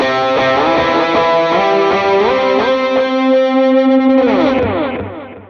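Electric lead guitar with every effect engaged, distortion, chorus, echo and reverb, plays a loud, full, sustained rhythm part that rings out and fades at the end.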